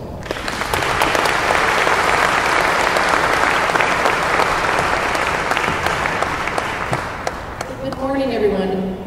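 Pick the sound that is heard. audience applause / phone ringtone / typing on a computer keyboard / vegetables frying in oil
audience applause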